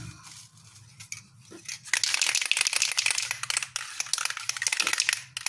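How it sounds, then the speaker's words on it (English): Material is crumpled and wrinkled by hand for a camouflage pattern on an RC car body, a run of close, crackling crinkles and crunches after a quieter opening. "So what I'm going to do is just wrinkle this up all crazy."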